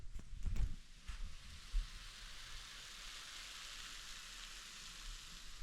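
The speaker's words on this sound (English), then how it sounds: "Did you hear my hash browns sizzling?" Soft, steady sizzling of hash browns frying in a pan, a faint hiss continuing throughout after a few light clatters at the start.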